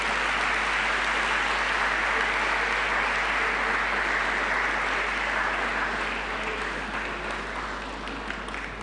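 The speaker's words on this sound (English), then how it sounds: "May we give her a round of applause." A school anniversary durbar audience claps in a broad, steady round of applause lasting several seconds, loud and even before tapering slightly, with a low constant hum underneath and no speech.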